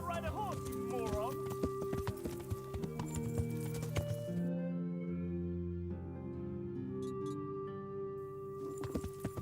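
Horse hooves clip-clopping in the video game Kingdom Come Deliverance, rhythmic hoofbeats running under game music and voices, steady and moderately close throughout.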